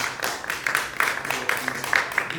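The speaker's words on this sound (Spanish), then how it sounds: "un aplaudiment aquí pel mestre, pel Cal Notari, el nostre amic Olivier" An audience briefly applauds a guest named Olivier at a debate on new GMOs, with a scattered burst of hand claps under faint background voices.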